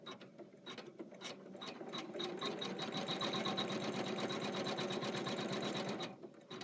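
An embroidery sewing machine stitches placement lines, its fast, even mechanical whir building up and holding steady for several seconds before stopping near the end.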